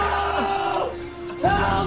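Villains in a film scene shout and yell in excitement inside a car, with loud overlapping cries over a continuous engine-like rumble and background noise.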